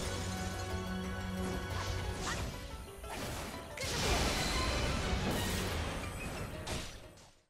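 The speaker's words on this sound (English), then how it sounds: "I'll just show you a couple of her weak point smash animations" Urbosa's weak point smash attacks in Hyrule Warriors: Age of Calamity, a run of crashing hits, whooshes and whip-like strikes over game music, with a heavy louder impact partway through.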